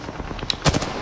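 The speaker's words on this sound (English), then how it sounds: "Shoot that guy. I'll shoot him." Gunfire in the Apex Legends video game, a short burst of several sharp, loud shots packed close together near the end of the second, over low game background noise.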